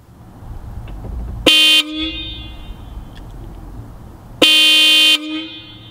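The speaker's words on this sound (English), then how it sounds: "this is the sound coming from the Hella Supertones that we have installed on my brother's car." Two blasts from a Hella Supertone car horn installed on a car, each loud and brassy, the first about a third of a second and the second longer at nearly a second, separated by a few seconds of quiet.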